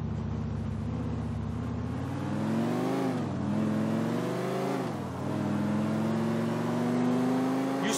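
A car driven through city streets in Grand Theft Auto IV, its engine droning steadily with two dips as the revs fall and rise again, loud and close, with no talk over it.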